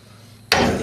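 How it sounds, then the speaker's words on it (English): A big hammer lands a single loud, close strike about halfway through, its sharp metallic impact ringing on to the end after a quiet start. "Alright, got a big hammer right here."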